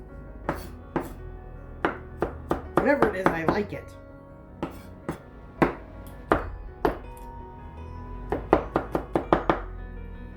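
Kitchen knife chopping cabbage on a board for cabbage rolls, sharp knocks in uneven bursts and quick runs, close and clear, with people talking now and then between cuts.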